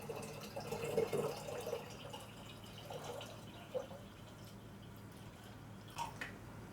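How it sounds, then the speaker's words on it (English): Cool water is poured into a container while making cranberry wine, heard as faint splashing and trickling with a few drips, quiet and close, no talking. "I'm going to fill this with cool water now."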